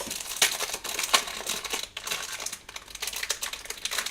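Crinkly plastic wrappers of Pokémon Shining Legends booster packs are torn and handled, giving a steady near rustle with sharp crackling bursts and brief tearing spots.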